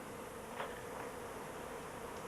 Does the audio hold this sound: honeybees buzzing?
yes